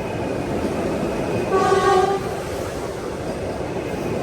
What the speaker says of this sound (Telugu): Vande Bharat express cross over.